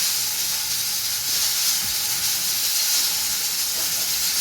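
A steady, bright sizzling hiss of garlic tempering in hot oil for saag, continuous and fairly close, with no talking.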